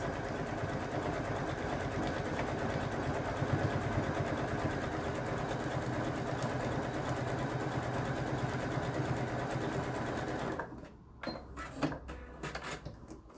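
Sewing machine stitching the boxed corners of a padded, zipped bag, a close, steady rapid whirring chatter for about ten seconds, then stopping and giving way to a few scattered handling clicks and bumps.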